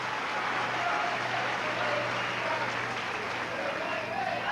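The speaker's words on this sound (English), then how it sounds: "So a great round of applause from the Leeds crowd." A Leeds rugby league crowd applauds an injured player, Schofield, during a 1990 match against Rochdale Hornets, a steady, dense wash of clapping that fills the whole stretch without a break.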